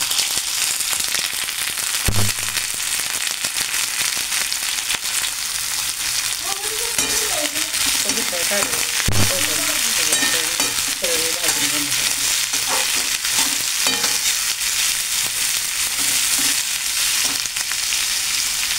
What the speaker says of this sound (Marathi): तर मी तेल टाकलेलं आहे इकडे, तर आता ब्राऊन होईपर्यंत भाजून घेणार आहे।